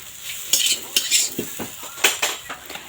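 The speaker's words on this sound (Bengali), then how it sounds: "3-4 মিনিট ভালোভাবে এটা নাড়াচাড়া করে রান্নাটা করে নিন" Roti noodles being stirred in a pan, with repeated metal scrapes and clinks of a utensil against the pan over a low background sizzle, close and alone, with no talk.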